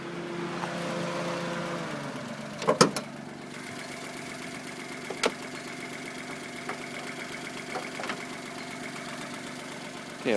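The 660cc turbocharged, intercooled engine of a 1992 Daihatsu Mira RV4 idling, a steady, even mechanical hum with a faint knock and a few sharp clicks, heard up close without talk.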